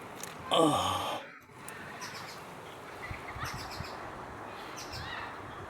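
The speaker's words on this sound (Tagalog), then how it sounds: "may ibon na tumutunog yung ibon dito sa taas" A bird gives a sharp, harmonic call early on, followed by fainter chirps scattered over a rustling outdoor background.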